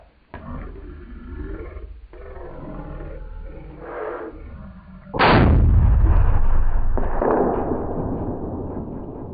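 A 6.5 PRC rifle fires on a deer hunt: one loud, sharp shot booms about midway, preceded by quieter outdoor rumble and followed by a long, rolling echo that slowly fades.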